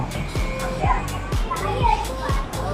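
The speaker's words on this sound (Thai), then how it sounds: "ยังมีเสียงเด็กๆน่าจะมีเด็กเล่นน้ำอยู่นะครับ" Children playing in the water at a resort at night, their voices and shouts carrying from some distance over a steady background hum, with occasional soft thumps.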